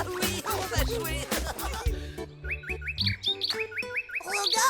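Cartoon bird chirps in a French children's show: bright, rapid repeated tweets and whistled rising notes ring out after a brief burst of music and sound effects, close and clear.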